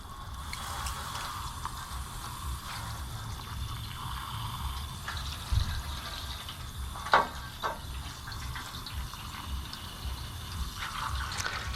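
Steady, low-pressure water spraying and splashing continuously as a sailboat engine's air filter is rinsed, with a couple of brief clunks partway through; no one speaks.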